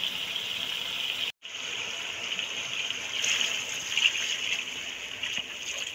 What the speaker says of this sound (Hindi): अब हम इसमें पानी डालते हैं।